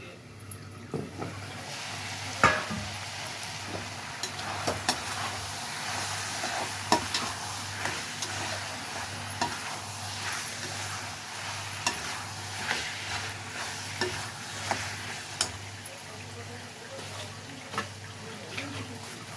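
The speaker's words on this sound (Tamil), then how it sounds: "கொஞ்சம் லைட்டாக வதங்கட்டும்" Mutton curry ingredients sautéing in a pan with steady sizzling and frequent scraping stirs, clinks and clatters of a spoon throughout, close and moderately loud in a village kitchen.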